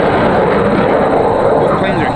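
An F-15 Eagle jet flying low over an airshow near London, a loud continuous roaring rumble filling the air while people talk nearby.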